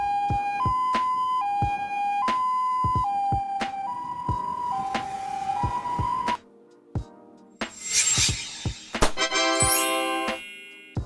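A Croatian ambulance, one of its Mercedes-Benz Sprinter, Volkswagen Crafter or Fiat Ducato vans, sounds a loud two-tone hi-lo siren that alternates steadily for several seconds, then breaks into sharper rising electronic yelps and wails.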